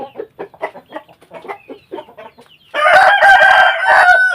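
A domestic rooster kept as breeding stock gives a short run of clucks, then lets out one loud, close, sustained crow that fills the last seconds.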